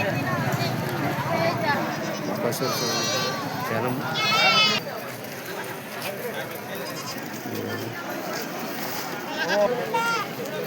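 Goats bleat in short wavering calls amid the busy hubbub of a weekly tribal market at Parlakimidi in Odisha, with people talking all around throughout.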